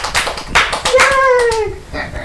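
Several sharp claps ring out on a podcast as a guest is welcomed, close and loud, with voices chatting and a squeaky vocal sound over them.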